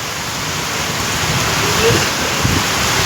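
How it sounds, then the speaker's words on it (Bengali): Heavy rain pouring steadily, a loud dense close wash of noise with no let-up across the short span. "চরম চরম বৃষ্টি, চরম।"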